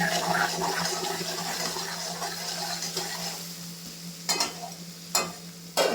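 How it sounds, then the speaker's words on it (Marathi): Food with salt frying in a pan at home, a steady sizzle with stirring that thins toward the end, broken by a few sharp clanks of a utensil on the pan. "व्यवस्थित फ्राय करून घेऊया"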